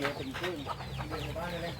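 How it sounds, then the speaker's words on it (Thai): Chickens clucking on a small self-sufficiency farm, a flock heard close by with overlapping irregular clucks and calls running continuously at moderate loudness over a low background rumble. "มีไก่นะครับ เยอะแยะเลยนะครับ"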